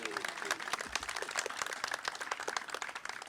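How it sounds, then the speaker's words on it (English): Audience clapping at a park grand opening, a steady crackling round of applause from a crowd outdoors, moderately loud and sustained throughout. "Let's give the Parks and Recreation Commission a round of applause."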